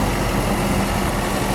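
A 1997 Mercedes-Benz S500 engine idles with a smooth, even low hum, steady and close with no revving or other sounds.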